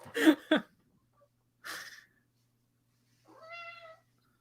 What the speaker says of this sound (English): Hello, little cat.